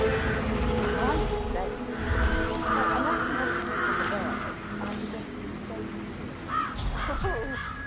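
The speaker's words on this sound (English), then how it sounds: "It's the birds. They're making a racket, droppings everywhere." Crows caw in the Hitman 3 video game, harsh repeated calls rising over a steady bed of ambient game noise and background voices.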